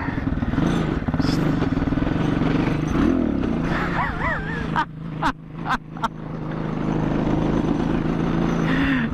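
A 250 motorcycle engine runs loud and close during a wheelie attempt, a steady rough drone with a few sharp dips and blips as the throttle is blipped, then settling back to a continuous roar.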